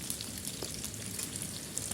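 Chopped onions fry in oil in a kadai, a faint, steady crackling sizzle that holds evenly with no talk over it.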